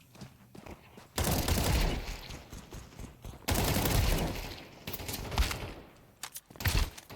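Sustained automatic gunfire from Counter-Strike 2, loud dense bursts of rapid shots broken by short pauses, with a few sharper single shots near the end and no talking.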